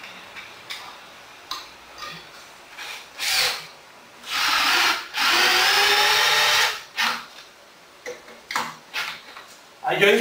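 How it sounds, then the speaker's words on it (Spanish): Cordless screwdriver driving screws to fix an articulated TV wall mount bracket, with several whirring bursts of varying length, one long sustained run, and short pauses between them. "Yo he instalado dos tornillos con lo que sería el destornillador inalámbrico"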